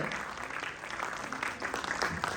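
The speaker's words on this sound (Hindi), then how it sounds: "जोरदार तालियां" Audience applause at an international yoga conference in Haridwar during an honouring ceremony, a fairly faint, steady patter of many hands clapping, slightly uneven but continuous.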